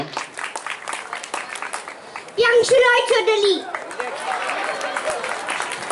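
A cultural programme crowd breaks into applause for children on stage, the clapping rising after someone says a name over the microphone and continuing under background chatter.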